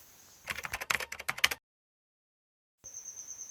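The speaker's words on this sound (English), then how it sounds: "Here I am typing my Gmail password and confirm" Typing on a computer keyboard while entering a password: a quick burst of close, crisp key clicks for about a second, followed by silence and then a faint electronic hum.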